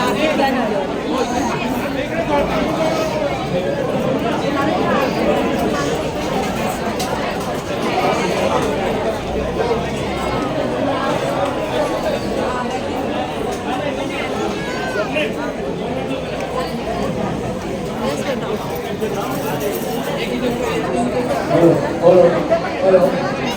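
Dense crowd chatter at a Shree Swami Samarth palki procession at a temple math in Charkop, many overlapping voices in a steady hubbub, close and continuous for the whole stretch.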